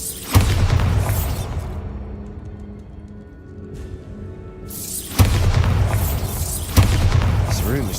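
A Bombarda spell explodes in the game Hogwarts Legacy, one heavy booming blast followed by a long rumbling decay, then two further loud bursts later on, all dense and forceful, with a voice talking over parts of it.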